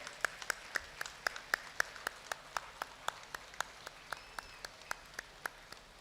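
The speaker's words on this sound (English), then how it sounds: "Give them a big hand, please applaud them." Sparse, evenly spaced handclaps from a single person at a college motivational talk, sharp and fairly faint against a quiet room, roughly three claps per second through the whole stretch.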